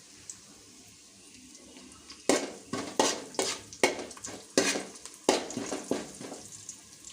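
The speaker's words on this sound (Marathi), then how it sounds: "हे ठेचलेलं लसूण आहे हे टाकूया आपण एक छोटा चम्मच" Crushed garlic and cumin seeds frying in hot oil in a pan, a steady close sizzle with a series of sharp bursts and scraping stirs, no talking.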